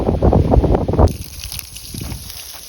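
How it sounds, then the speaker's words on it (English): Water from a garden hose sprays onto the hot engine of a Craftsman push mower with a Briggs flathead, hissing into steam. The hissing is loud at first, then drops to a fainter, steady sizzle with soft splashy texture. "Wow, listen to all that steam."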